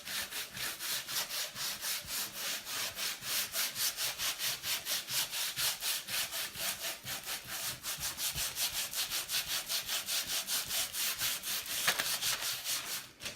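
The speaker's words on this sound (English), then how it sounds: "you do want to get up to each letter, at least with a little bit of sanding" Sandpaper rubbed by hand across a wooden Christmas sign, a steady rhythmic scratching of quick back-and-forth strokes, close and continuous with no talk.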